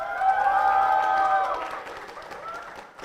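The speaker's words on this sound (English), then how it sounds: "give us a cheer if you're gonna vote for them" Crowd noise from an audience at a student electorate debate, a broad wash of cheering and clapping that swells loud at first, then fades into a softer murmur.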